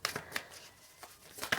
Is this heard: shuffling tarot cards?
yes